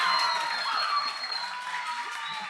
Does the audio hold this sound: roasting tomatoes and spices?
no